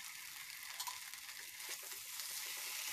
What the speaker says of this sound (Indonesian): kita aduk ya bumbu halusnya agar tercampur merata menyebar di tempenya